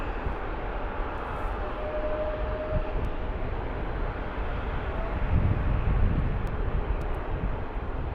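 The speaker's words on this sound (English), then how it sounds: "British Airways 777" British Airways Boeing 777 airliner at Toronto Pearson airport, a steady broadband engine roar that swells slightly midway, sustained and moderately distant, with no talk.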